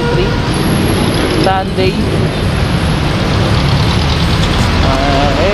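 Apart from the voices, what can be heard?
road traffic on Aurora Boulevard, Marikina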